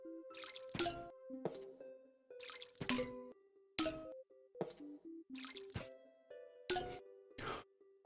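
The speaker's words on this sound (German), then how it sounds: "Wir gehen erstmal wieder im Garten gießen, nicht?" Plants are watered in the garden in the video game Plants vs. Zombies, a repeating pattern of bright plopping drips and short tonal chimes at steady intervals, clear and close with no voices.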